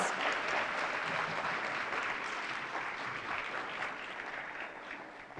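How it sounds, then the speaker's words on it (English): A workplace employee gathering audience gives steady, dense applause for a student music performance, a continuous wash of many hands clapping that holds evenly throughout and tapers slightly at the end. "Let's give these talented young students and their music teacher, Mr. John Brannon, another round of applause."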